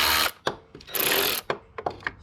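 A power tool spins an engine bolt with short, sharp whirring bursts separated by pauses, loud and close, on a 2G DSM engine during a valve spring job.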